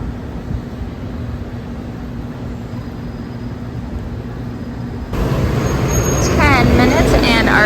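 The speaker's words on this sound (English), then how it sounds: "bus has arrived back for Helios Grand. What's interesting is that this is a Mears Connect bus" A Mears Connect shuttle bus pulls up at the Helios Grand hotel: a steady low engine rumble that grows louder and closer partway through, with hissing and mechanical noise over a busy roadside background.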